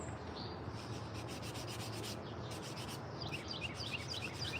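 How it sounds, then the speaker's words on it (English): Steady, continuous rubbing of sandpaper on a hand-carved wooden spoon, close and even in rhythm, with faint bird chirps in the background. "let's sand this thing for a few minutes"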